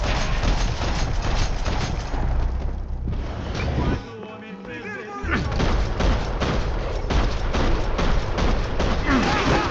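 Dense video-game gunfire rattles almost nonstop in loud rapid bursts, breaking briefly into a quieter lull before the shooting resumes just as heavily.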